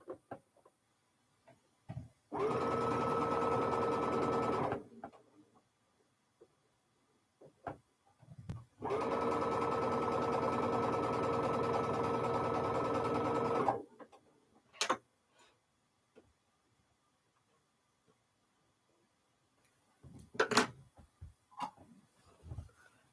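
A sewing machine stitches fabric flowers for a quilt block in two steady whirring runs of a few seconds each, separated by quiet pauses with small handling clicks and taps, no talk.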